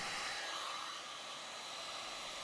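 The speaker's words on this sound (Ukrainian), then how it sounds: "Прогріємо феном" Steady, loud airy whoosh of a hair dryer heating a handmade fishing lure part at close range, with no speech.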